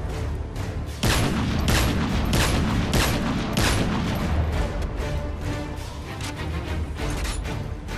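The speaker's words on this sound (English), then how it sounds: "Now let's test the recoil of the AS50." Rapid, loud sniper rifle shots from an AS50 in Call of Duty: Modern Warfare 3, a steady run of booming reports fired back to back with no pause and no talking.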